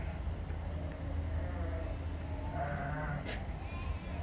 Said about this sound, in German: Marathonläufer von Schafen überrannt.